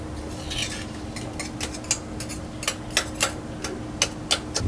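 Grease being stirred by hand for packing Prevost bus wheel hubs, giving irregular light metallic clicks and scrapes at a moderate pace over a low steady hum, close and fairly quiet.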